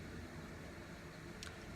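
A steady, faint hum of an air conditioner runs throughout, a soft unbroken whoosh with no other sounds.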